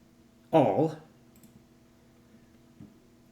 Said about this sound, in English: I'm gonna hit Control on my keyboard for it holds it, and then I can click on the arrows here